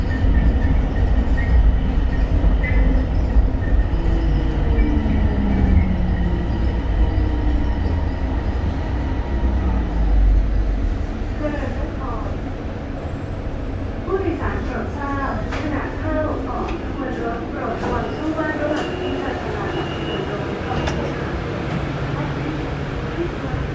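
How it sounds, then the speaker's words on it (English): A BTS Gold Line train in Bangkok rumbles along on its rails, a loud steady roll heard from inside the car, with low drive tones early on and later squeals and rhythmic clatter as it moves out of the station. "When the train gets out of the station,"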